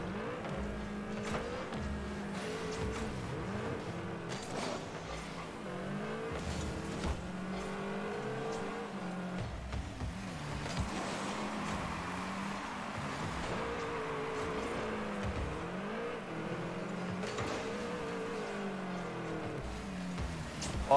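Car engines in a Rocket League-style eSports high school match drone and rev constantly, with pitch rising and falling as the vehicles boost around the arena, a steady layered whine with no clear talk.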